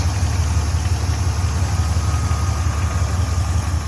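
A car engine idles steadily during an alternator check after a battery renewal, a continuous low rumble with even vibration heard close up and no talking over it.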